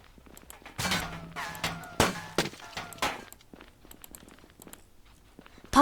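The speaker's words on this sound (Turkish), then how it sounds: "Son anda araç patladı ya" A loud car explosion in the Roblox game Ohio: sharp, heavy blasts and crunching metallic impacts come in quick succession, then scattered smaller clatters fade out.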